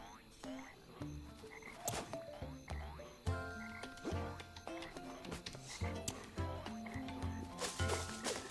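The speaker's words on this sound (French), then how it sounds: "le chant des grenouilles, une vraie symphonie" Frogs croak in a swamp at night, a busy overlapping chorus of short rhythmic calls and clicks at moderate distance, layered continuously with no talking.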